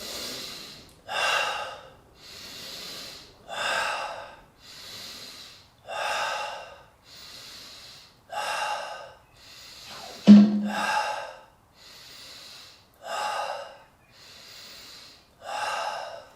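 Deep, forceful breaths are drawn in and let out during a Wim Hof breathwork exercise, in a steady rhythm of about a dozen close, airy inhale-exhale cycles spaced roughly a second apart, with one sharper snort-like breath partway through.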